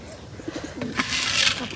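Pigeons coo in soft repeated throaty notes close by among a flock being fed grain, with faint wing rustles and a nearby voice toward the end.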